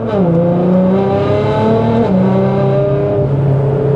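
Car driving with its exhaust valves open, the engine note climbing through gears in steady stepped shifts, loud and close with a continuous throaty drone.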